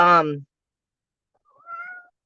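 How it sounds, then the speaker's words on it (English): A pet cat meows, first with a strong, close tonal call, then after a pause with a softer, thinner mew. "yes, Neptune, my cat"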